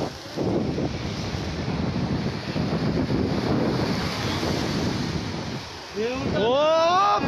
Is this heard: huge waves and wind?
yes